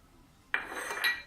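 A spoon stirring a creamy yogurt dessert mixture in a pot: a metallic scrape against the pot followed by soft rubbing and a second light clink, close and fairly quiet, with no talk.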